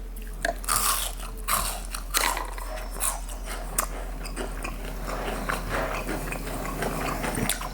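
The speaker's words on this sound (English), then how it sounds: "peep the crunch first." Crunchy bites into crispy, light fried food topped with fresh tartar sauce, with repeated sharp close crunches and chewing in an uneven rhythm, loud and with no talking.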